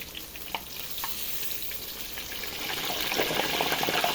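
Crispy pork deep-frying a second time in hot oil, a steady bubbling sizzle that grows fuller and louder toward the end, close and without talk.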